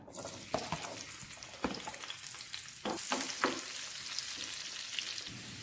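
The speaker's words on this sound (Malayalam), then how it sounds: "നമുക്ക് 1 ടേബിൾ സ്പൂൺ ചുമന്നുള്ളി ചെറുതായിട്ട് അരിഞ്ഞതും കൂടി ഇട്ട് വറുത്തെടുക്കാം" Chopped shallots frying in a pan make a soft continuous sizzle, broken by scraping stirs and short clatters of a spoon against the pan.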